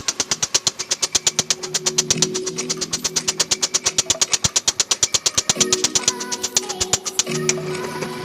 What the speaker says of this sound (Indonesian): pukulan si mesin pemalu yang begitu rata dan epik